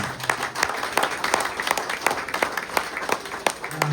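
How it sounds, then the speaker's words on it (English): Audience applause at a birthday celebration for a heritage rail service between Drayton and Wyreema, a steady round of many hands clapping that carries through from start to finish at moderate loudness. "I would like you just to acknowledge the contribution he has made to Down Steam with a round of applause."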